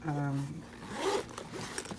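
A double zipper on a pouch is zipped and unzipped, giving a quick rasping run of teeth in short strokes, close and clear, with a person talking over part of it.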